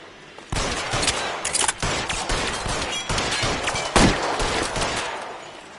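Rapid gunfire in the crime shooter L.A. Noire, loud bursts of overlapping shots and sharp cracks firing almost continuously, with heavier impacts standing out before the shooting tapers off.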